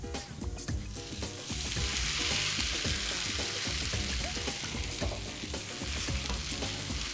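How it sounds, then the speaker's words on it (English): Vegan ground round filling sizzling and frying in a hot pan for vegan shepherd's pie, with a steady loud hiss broken by the scraping, clattering strokes of stirring throughout. "So now we can add this in and then stir it around for about a minute just while it thickens."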